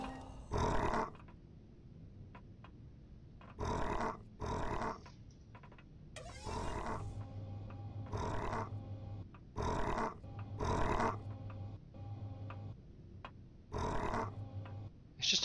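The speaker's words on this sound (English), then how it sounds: "It's absolutely surrounded by dogs up there." A hostile dog creature in the survival game Empyrion growls and snarls in repeated loud bursts, each lasting about a second, over a low droning game ambience.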